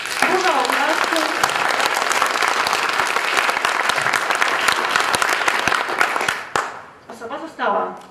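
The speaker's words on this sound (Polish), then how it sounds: "Burza oklasków, proszę burza oklasków." A crowd at a club contest bursts into a long, dense storm of applause that holds steady for over six seconds before cutting off, followed by a few voices talking.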